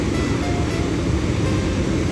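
The Poorva waterfall near Rewa, roughly 230 feet high, roars as a loud, dense, unbroken rush of falling water heard up close, steady throughout with no voices.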